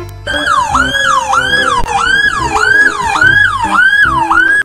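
A toy ambulance siren wails in a steady, repeating rise-and-fall pattern, loud and close, with no voices over it.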